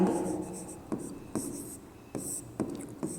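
A pen writes out a math solution, scratching steadily with short strokes and several sharp taps on the page, close and fairly quiet, with soft hiss behind it.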